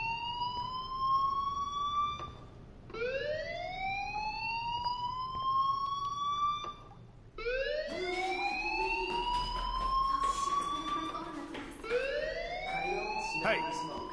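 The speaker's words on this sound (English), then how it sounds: "Hey, do you hear that fire alarm?" In the video game Life is Strange, a fire alarm wails on and off in repeated rising sweeps, loud and steady, with a voice talking under the alarm partway through.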